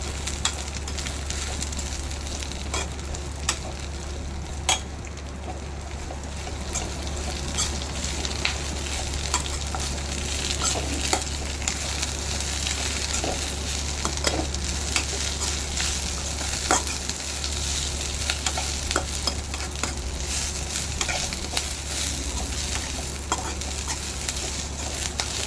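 Spinach being sautéed in a pan makes a steady, soft sizzle with faint stirring scrapes. The sound runs continuously at a moderate level over a low, constant hum, and no one speaks.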